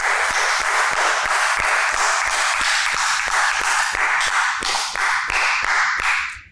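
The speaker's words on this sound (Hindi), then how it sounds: "फैजान शेख के लिए तालियां।" Applause at a Hindi game show, as the first task winner of the week is honoured. A loud, dense burst of clapping carries on steadily for several seconds with sharp individual claps standing out, then fades at the end.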